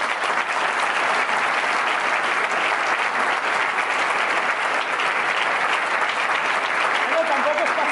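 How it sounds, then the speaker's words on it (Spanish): Loud, dense applause from a live show audience in Andoain, a thick continuous wash of many hands clapping close and evenly throughout, with no pause. "un aplauso para vosotros, por favor."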